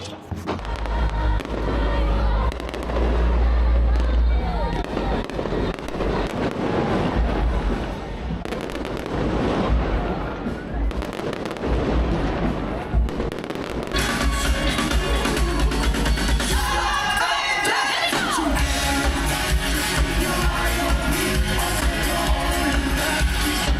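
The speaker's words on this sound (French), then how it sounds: "Donc là, il y a un putain de feu d'artifice, genre." Fireworks display in Washington, with dense booms and crackling bursts layered continuously over the whole stretch, loud and fairly close, shifting after the midpoint into sharper crackles and whistles.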